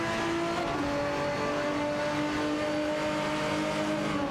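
Race cars including a Ford GT1 and an Aston Martin DBR9 in a racing video game, their engines whining steadily with overlapping tones from several cars and a pitch shift as one shifts gear early on.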